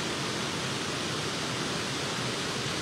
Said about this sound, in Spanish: se oye siempre el agua cuando hay una caída. El sonido es hermoso.